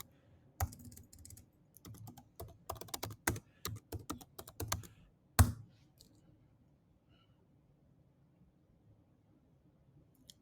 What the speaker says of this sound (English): you must have to go to the terminal and type Flutter Doctor